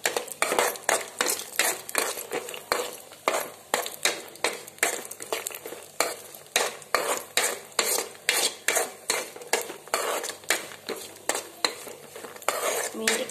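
Cashews, raisins and coconut fried in a pan, a ladle scraping and clattering against the metal in a fast, steady rhythm of repeated strokes throughout, close and loud, with no voices.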